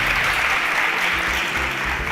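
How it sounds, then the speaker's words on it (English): Continuous, even audience applause on a Nigerian quiz show (InterswitchSPAK), a thick wash of clapping from a crowded studio held steady at full volume throughout. "Can we give a round of applause to Ose and Camara?"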